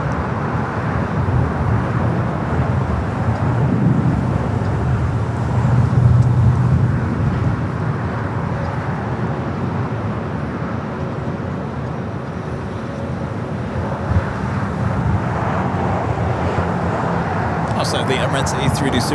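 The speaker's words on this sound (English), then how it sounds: "Next takeoff here on the south side, Japan Airlines Flight 15 heading to Tokyo Haneda." Japan Airlines Flight 15 airliner taking off from the south side at LAX, bound for Tokyo Haneda: a sustained, broad engine roar at moderate distance that swells slightly, with people talking over it throughout.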